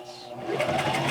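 A sewing machine runs steadily, close and loud, backstitching down the edge of a cloth face mask that has filter pockets.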